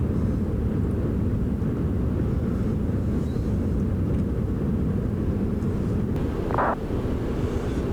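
Airliner climbing out from Stuttgart in Microsoft Flight Simulator 2020, a steady low engine drone with airflow rush that holds even throughout, with a brief faint tone near the end.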